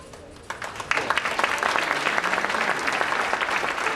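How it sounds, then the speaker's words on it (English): An audience at a high school senior awards night applauds the graduating seniors, dense clapping that swells after a quiet start and holds steady and loud. "And they all should be applauded because you guys worked hard and you did a wonderful job."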